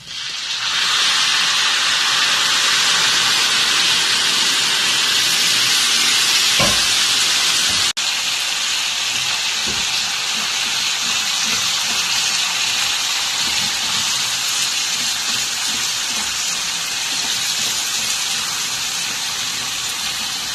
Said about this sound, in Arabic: هننزل بقى عليها ايه بالعصير الطماطم دلوقتي